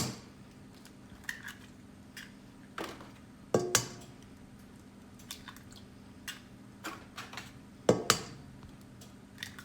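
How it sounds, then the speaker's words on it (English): Eggs are cracked against a bowl that holds lime zest, making a few sharp taps and clinks followed by soft wet drops, faint and spaced out in a quiet kitchen. "Now I'm gonna break my eggs in there."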